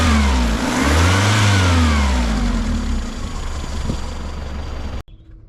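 A roadster's engine runs while warming up, a loud, steady mid-pitched drone with slow rising and falling revs and a low rumble, then it cuts off abruptly near the end.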